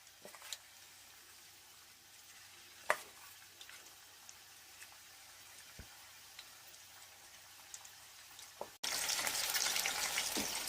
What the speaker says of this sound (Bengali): পরেরগুলো আমি একইভাবে ভেজে নেব। ধিমে আঁচে দিয়ে দিয়েছি।